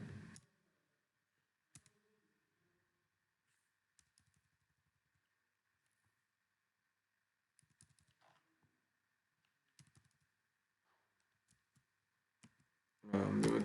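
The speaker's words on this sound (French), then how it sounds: "donc vous allez cliquer ici" Scattered faint mouse clicks while building a survey questionnaire on the KoboToolbox platform, single sharp ticks spaced seconds apart over near silence, with a louder burst of handling noise at the very start and end.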